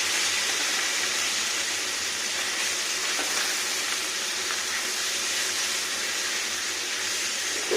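A katla fish head frying in hot oil, giving a loud, continuous close-up sizzle and crackle that stays steady throughout, with no talking.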